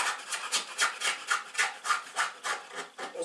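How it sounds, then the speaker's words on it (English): Old heat glue gets scraped off a pit bike's fuel tank in about ten even strokes, a close, steady, rasping scratch with no talk. "Take all the old heat glue bits off carefully because it is on the fuel tank."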